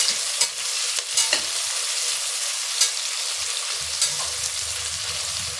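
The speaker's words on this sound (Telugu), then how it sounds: "ఆనియన్స్ వేసి ఒకసారి కలుపుకోవాలి ఇలాగా" Onions stirred and fried in a pot for chicken biryani: a bright, constant close-up sizzle with sharp scraping and clinking from the spoon at irregular moments.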